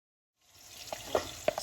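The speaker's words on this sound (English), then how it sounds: "Add some oil and just saute the vegetables a little." Vegetables sauteing in oil in a Dutch pot for a Jamaican meal: a soft, close sizzle rises out of silence, with a couple of sharp stirring clicks near the end.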